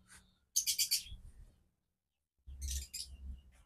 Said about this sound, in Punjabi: ਇਹ ਜੀ ਫਿੰਚਸ ਹੈ, ਕਹ ਲੋ ਚਿੜੀਆਂ ਜੀ, ਛੋਟੀਆਂ ਜੀ, ਰੰਗ ਬਰੰਗੀਆਂ ਚਿੜੀਆਂ